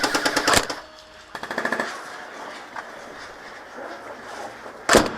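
Tokyo Marui H&K 416c airsoft rifle fired during an airsoft skirmish game, a rapid full-auto burst followed by a second burst, then a short single crack near the end, close and loud over outdoor ambience.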